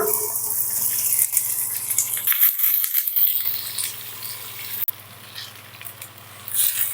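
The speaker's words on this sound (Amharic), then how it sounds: "ዘይት እጨምራለሁ፣ ሽንኩርት እጨምራለሁ።" Hissing, crackling sizzle of onions frying in oil in a pan, loud and close, with a clatter partway through and no talking.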